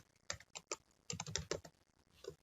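Fast typing on a computer keyboard, rapid clicking bursts of keystrokes with short pauses between runs, close and clear with no talking.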